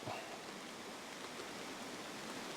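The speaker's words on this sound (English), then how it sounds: "Look at the rain." Steady rain pattering on a tarp at a rainy tent campsite, a soft, even, continuous hiss with no pauses, faint and close overhead.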